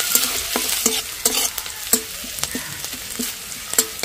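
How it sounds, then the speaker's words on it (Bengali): Chopped garlic, ginger and green chili fry in oil for cabbage veg Manchurian, with a close, bright sizzle punctuated by rhythmic metal spatula knocks and scrapes about twice a second, loud and with no voices. "আদা রসুন আর কাঁচা লঙ্কা ভালো করে ভাজা হয়ে গেছে।"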